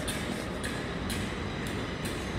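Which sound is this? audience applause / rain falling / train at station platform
train at station platform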